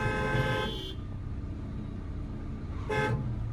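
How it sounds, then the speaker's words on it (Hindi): Car horn honks, one long held blast of about a second, then a pause and a shorter second honk, over a steady engine drone. "हॉर्न दो इसको लंबा"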